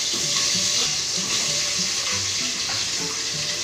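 Potatoes dropped into a hot pan already holding cumin and ginger give off a loud, steady sizzle that runs on without a break and with no talk over it.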